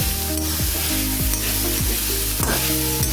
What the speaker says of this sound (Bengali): প্রথমে নারকেলটা একটু ভাজবো